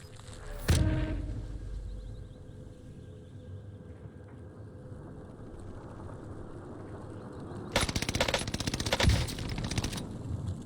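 Gunfire in the video game Warzone: a sharp shot early on, then a later stretch of rapid automatic bursts, loud and close over a low background rumble.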